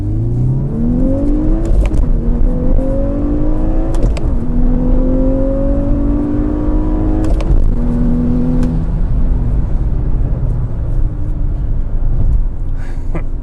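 A manual Volkswagen Golf R pulls away hard from a takeoff. The loud, close engine rises in pitch through each gear, with several clear shift breaks, then settles into a steady cruise.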